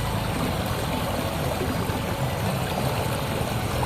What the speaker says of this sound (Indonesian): Suara gemericik air seperti ini mungkin sudah langka di perkotaan.